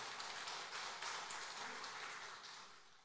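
Church congregation applauding during a Sunday morning worship service, a steady wash of many hands clapping together, sustained and fairly distant, with no talk over it.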